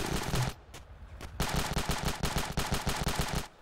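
Rapid bursts of automatic gunfire from the video game Ravenfield, a loud close volley, a short pause with a couple of isolated shots, then sustained fast machine-gun fire to the end.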